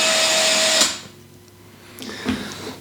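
A drill whirs a nylon pipe-cleaning brush on a rotator shaft for under a second, then cuts off, leaving a quiet room with a couple of light knocks.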